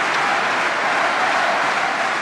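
A table tennis crowd at a 2012 men's team final cheers and claps for Timo Boll, a dense, loud, steady roar of applause with no break.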